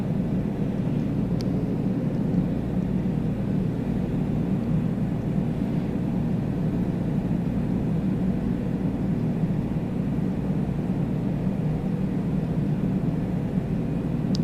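A small general aviation aircraft engine in a VR flight simulator game, flying over the Australian outback, holding an even, unbroken low drone throughout, with only faint brief clicks on top.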